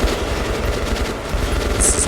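Sustained automatic gunfire in the post-apocalyptic shooter Metro, a dense, continuous rattle of shots filling the whole stretch at steady loudness with no pauses.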